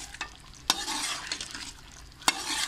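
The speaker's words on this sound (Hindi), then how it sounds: "1-2 मिनट में भुनाई करती हूँ इसकी ताकि" Tomatoes and chicken stir-fried for chicken shinwari karahi, the tomatoes being cooked down to a mash: a close, continuous sizzle with two sharp utensil knocks against the pan and soft stirring in between.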